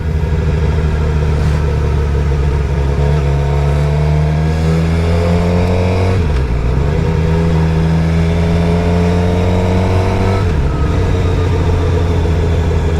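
A Suzuki GSX-R 750 motorcycle on a ride in Rawalpindi revs hard and close, its engine pitch climbing steadily and then dropping sharply at two gear shifts before rising again.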